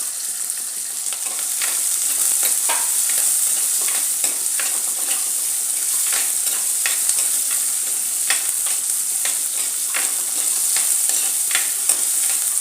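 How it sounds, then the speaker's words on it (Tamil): Onions with added ginger and garlic are sautéed in a pan, a steady loud sizzle with repeated scraping stirs of a utensil across the surface, close and unbroken by speech. "வெங்காயம் வதங்கினோன்னு இஞ்சி பூண்டு போட்டுக்கணும்."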